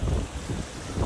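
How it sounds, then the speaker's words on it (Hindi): Cold wind blows near the Kedarnath glacier, a steady low, gusty rumble buffeting the microphone for the whole moment with no voices. "ये ठंडी हवा चल रही है ना, मस्त मस्त"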